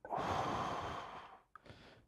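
A single deep breath is drawn in slowly and let out as a long audible exhale, followed by a shorter second breath, heard close and quiet with no talking.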